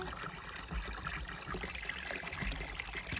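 Spring water trickles steadily in an outdoor setting, a soft continuous babble of running water with faint splashes, heard alone at moderate level with no talking.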